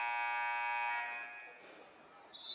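A loud, sustained arena buzzer blares for about a second and a half at the close of a girls' high school basketball game, Austintown Fitch against Garrettsville Garfield, then cuts off into crowd murmur.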